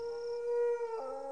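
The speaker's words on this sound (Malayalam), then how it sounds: "പട്ടി" A dog lets out a single sustained, tonal howl that dips in pitch near the end, fairly faint and alone in a comedy film scene.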